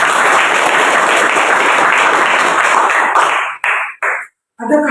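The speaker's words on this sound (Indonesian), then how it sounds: "Tepuk tangan dulu dong untuk kita" An audience at a joint worship service bursts into loud, dense applause with a ringing tone above it, then the clapping breaks off in a few abrupt stops before a short spoken sound.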